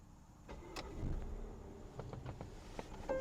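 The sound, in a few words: 2019 Volvo XC60 engine starting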